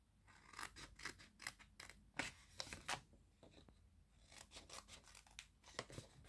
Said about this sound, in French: Et maintenant, on va prendre le ciseau.